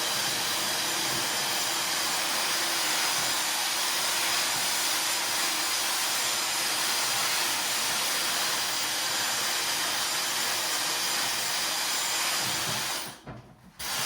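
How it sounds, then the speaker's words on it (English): A handheld hair dryer blows steadily while hair is wrapped around a round brush and dried at the root, a loud continuous whooshing hiss that runs unbroken for about thirteen seconds before cutting out near the end. "I'm going to put my round brush behind, wrap it, and blow dry at the root."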